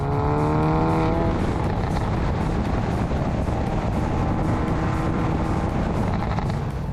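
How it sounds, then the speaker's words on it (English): A Stage 1 remapped VW Golf R, rated 448 hp, driving with a loud, steady engine roar heard from the car as it runs on and off the throttle, with a rasping, crackly edge on the overrun and no talk. "just a little bit of noise on the overrun, a little bit of unburnt fuel"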